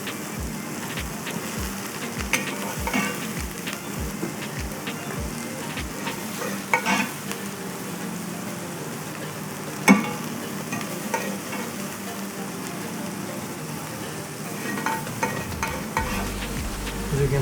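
Vegetables for a beef and mushroom stew sizzle and crackle steadily in a hot pan while being stirred, with a few sharp scraping clinks over the dense frying hiss.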